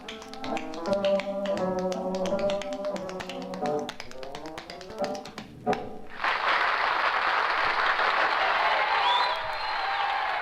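Rapid rhythmic tapping over a bright musical melody gives way, after a brief lull, to a sudden, sustained burst of theatre audience applause that continues loud and dense to the end.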